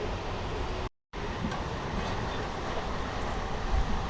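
A MEMU passenger train running on rails past Manchili station, heard as a steady close rumble of wheels and carriage noise with a brief cutout, no voices.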